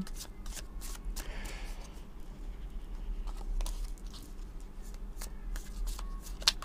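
A deck of tarot-style cards is cut and handled on a table, giving soft papery riffles and light taps at close range in a quiet room, with no talking.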